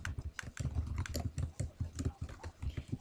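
Typing on a computer keyboard while building a PowerPoint presentation: quick, uneven bursts of clicking keystrokes, close and fairly soft, with no talking over them.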